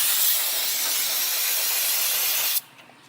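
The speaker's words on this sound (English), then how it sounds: "I'll spray them down with some water. Brake cleaner." A steady, loud aerosol can of brake cleaner hisses continuously for over two seconds on a John Deere V-twin engine, then cuts off abruptly, leaving a quiet background.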